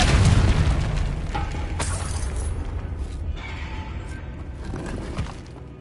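A loud blast from the Confringo explosion spell in Hogwarts Legacy booms out at the start, then rumbles and crackles as it fades, with a smaller burst later on.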